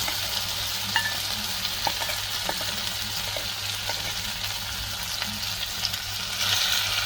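Pre-fried ingredients for Bangladeshi-style Chinese beef sizzling being mixed in a hot pan, a steady crackling fry with periodic spatula knocks and scrapes over a low hum.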